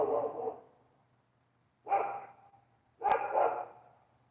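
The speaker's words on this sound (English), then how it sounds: "That's the next door neighbor's dog." A dog barks three times, fairly close and moderately loud, with pauses between the barks and a quiet background.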